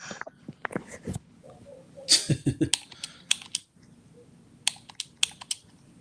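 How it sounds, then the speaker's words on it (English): Controller buttons clicking during a Fight Night Champion boxing video game session, irregular quick plastic clicks in clustered bursts, close and fairly quiet, with no talking. "What's that clicking? No, I'm on Fight Night Champion"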